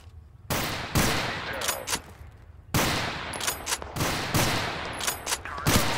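Gunfire in the shooter game Total Conflict: Resistance comes as bursts of sharp rifle and machine-gun shots, with loud close volleys and scattered single cracks separated by brief lulls.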